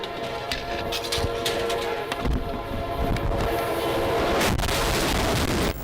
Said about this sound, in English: a CSX freight train traveling at 58 miles per hour approached the trestle with no warning